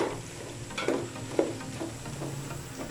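Half a kilo of keema (minced meat) frying in a pot, with a low steady sizzle broken by a few clear stirring scrapes and clinks, close and moderately quiet.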